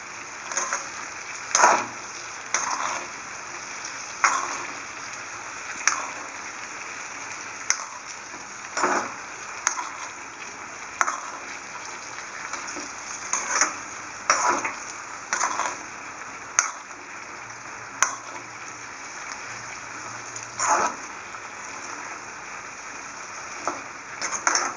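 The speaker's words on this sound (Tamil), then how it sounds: "நல்லா ஃப்ரை பண்ணுங்க." Turkey berries (sundaikkai) fry in oil in a pan, a faint steady sizzle broken by repeated soft scraping and clinking stirs at irregular intervals.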